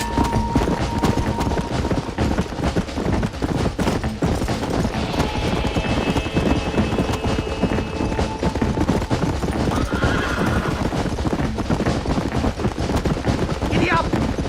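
Horse hooves gallop in rapid, continuous clip-clop under a busy Red Dead Redemption scene on Xbox 360, with whinnies, distant gunfire and a shouted voice mixed into a loud, dense game soundtrack.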